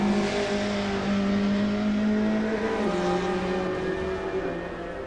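1995 touring race cars, a Toledo with a Ford close behind, climb a hill at a test session, engines roaring loud and steady with rising and falling pitch as they pass, no voices over them.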